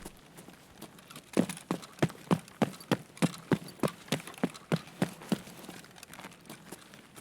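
Horse hooves clip-clop in a steady trotting rhythm of about fifteen distinct, fairly close hits within Escape From Tarkov, then fade away near the end.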